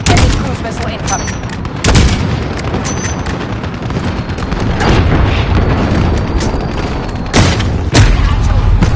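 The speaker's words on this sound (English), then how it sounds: "Enemy cruise missile incoming." A cruise missile strike explodes in a military video game, with heavy booming blasts and gunfire rumbling continuously throughout, sharp loud impacts near the start and again toward the end, and radio-style voices talking over the battle.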